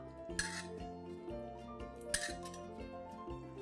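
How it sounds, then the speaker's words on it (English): A pot of green chicken curry with lemon juice being stirred after the flame is shut off, with two distinct spoon clinks against the metal over a faint hum, quiet and close, with no talk. "Just give it a quick stir."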